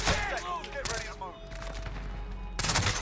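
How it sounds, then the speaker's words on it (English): Gunfire from a gun in Modern Warfare multiplayer: bursts of sharp, loud shots at the start and end, with a voice speaking between and over them. "That damn gun is crazy."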